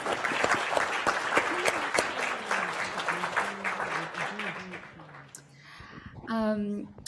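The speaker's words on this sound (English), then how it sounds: "if we could all give her a round of applause" Applause from an audience at a plenary session fills the room, dense steady clapping with talk over it, fading out toward the end before a brief voice comes in.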